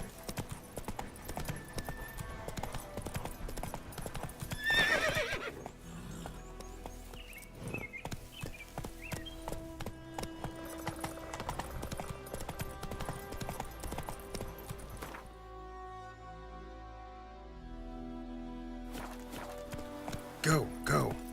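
Roach, a horse in The Witcher 3, gallops with steady, rapid clip-clop hoofbeats running throughout, mixed under game music and voices, with a louder burst of hooves around the middle.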